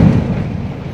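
Firecrackers bursting on a beach road during Diwali celebrations, a dense, loud rumbling roar of continuous booms and crackle with no distinct gaps, no voices over it.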